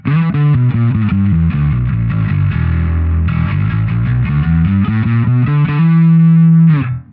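Electric bass played through a Darkglass Vintage preamp with distortion engaged, a gritty, driven riff of sustained and moving notes, loud and alone, ending on a held note.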